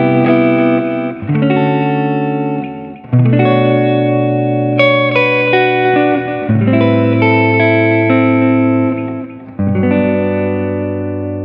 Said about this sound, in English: Now on the Catalyst, I've got some verb and some delay,